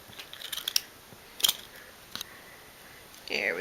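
Scissors snip material for nail decorations in a few crisp, close cuts spaced irregularly, with small rustles between and a brief scrape at the end.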